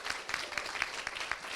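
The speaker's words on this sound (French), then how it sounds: "Je pense qu'on peut quand même vous applaudir, ceux qui étaient en grande finale" Brief, moderately quiet applause from an audience at a game jam closing ceremony, with a few individual claps standing out against the steady patter.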